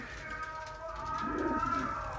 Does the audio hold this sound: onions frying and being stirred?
no